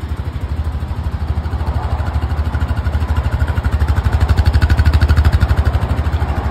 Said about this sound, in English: Starts right up, man. Listen to that engine.